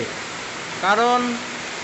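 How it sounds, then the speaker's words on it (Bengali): A heavy outdoor downpour makes a steady, dense hiss throughout, with no wind to speak of. A person's voice briefly rises over the rain near the middle. "দেখো মুষলধারা বৃষ্টি, মোটামুটি 10-15 মিনিট হয়ে গেল"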